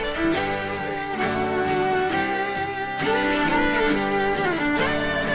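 Full mix of a song with all instruments playing together, a dense, steady band texture with regular rhythmic accents and layered melodic lines, loud and continuous, no talking.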